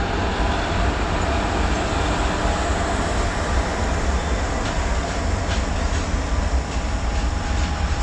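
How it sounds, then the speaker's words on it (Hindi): Freight train with twin wagons standing or rolling slowly on a loop line at Shambhu railway station, a steady broadband rail rumble that stays loud and continuous with faint clicks, no talk. "ये जो दूसरी मालगाड़ी है जिसमें आप ट्विन वैग 7 देख रहे हैं, इसको एक लूप लाइन पे ले लिया गया है"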